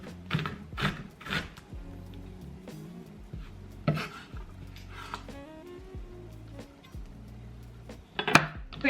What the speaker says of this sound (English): And I'm just chopping up a orange pepper now.